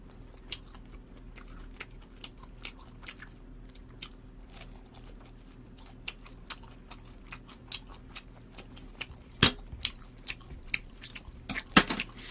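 Close, quiet crunching and chewing of food, including fire noodles and fried snacks, in an irregular run of soft bites with a few sharper crunches, no talking.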